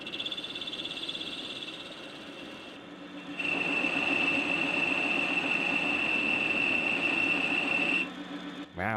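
Automatic tool changer turret on a DIY CNC metal lathe running a test cycle, a steady mechanical whine and hum that grows louder and fuller partway through, then cuts off near the end.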